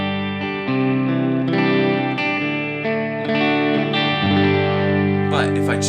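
Electric guitar played through a Grammatico Bright amp model on the A path of a dynamic split block, giving a loud, sustained chordal tone with a thin effect shimmer. The playing is steady throughout and no one talks over it.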